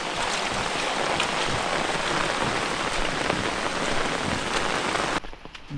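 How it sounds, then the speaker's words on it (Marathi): Heavy monsoon downpour in a Konkan village around rice paddies being planted, with a dense, steady roar of rain on surfaces. It is loud and constant and stops abruptly just before the end. "जाम म्हणजे जामच पाऊस गावी, निसता मुसळधार पाऊस."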